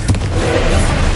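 A loud Confringo fire spell blast in the Hogwarts Legacy game, a sharp burst at the start followed by a dense, rumbling roar that holds steady to the end.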